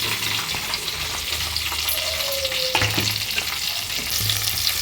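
Sliced onion with green chilies fries in hot oil in a pan, giving a loud, steady sizzle and crackle, stirred now and then with scraping and clinks.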